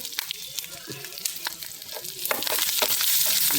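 Onion, ginger and fresh curry leaves dropped into hot tempering oil for upma, crackling and sizzling steadily, growing louder and denser over a few seconds, close up with no talk.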